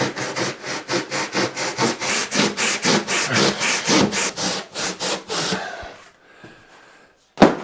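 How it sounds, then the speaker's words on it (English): Hand saw cutting along the side of a wooden joist in a stone barn, about twenty steady, rhythmic back-and-forth rasping strokes close up, stopping abruptly, followed by a short pause and a single knock. "if you can get the saw in and run it in along the side of the joist"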